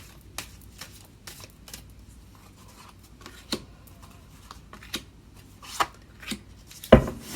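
Soft, irregular clicks and riffles of tarot cards being shuffled by hand, quiet and close, with a sharper snap near the end.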